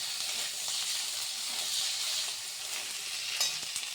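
Potatoes and vegetables such as aubergine, beans, pointed gourd, carrot and tomato frying in a pan, a steady bright sizzle and hiss with a few faint clinks of stirring, no voices.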